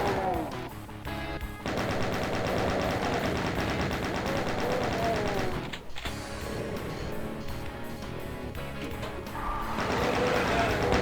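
A chain gun in a Doom wad fires in long, dense bursts of rapid shots. The loud clatter continues almost unbroken, with only a brief gap partway through.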